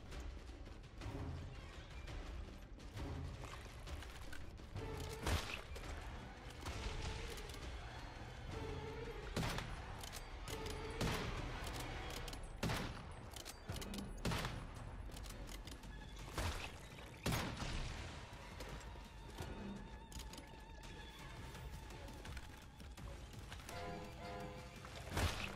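Continuous video-game gunfire pours onto a spider boss in solo play, with dense bursts of shots, crashes and impacts stacking up loudly over a busy background for the whole stretch.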